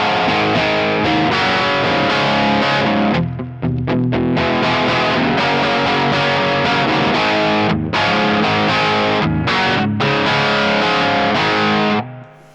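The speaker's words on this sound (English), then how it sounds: "go over to the dirty channel on the Koch Studio Tone 20," Electric guitar with single-coil pickups on the back pickup, played through the dirty channel of a Koch Studio Tone 20 amp, gives loud, continuous overdriven strumming with a bright top end and a few brief choked gaps.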